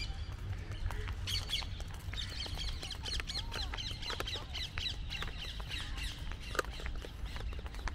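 Parrots squawk and chirp repeatedly from nearby trees during a sunset walk in Dubai, their sharp calls scattered over steady outdoor background noise.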